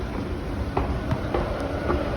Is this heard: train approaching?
yes